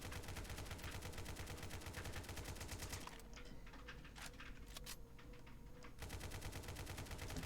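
A SCAR-L rifle in the video game Dread fires rapid automatic bursts, with a short pause mid-way before the fire resumes; loud, close and continuous with no talking.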